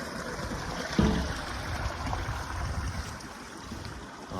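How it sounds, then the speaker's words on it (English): Water runoff from a stream in the Japanese countryside at evening, a soft continuous rushing wash, fairly faint and steady with a single brief bump. "So over here, you can hear the water maybe. This is the runoff from the tumble"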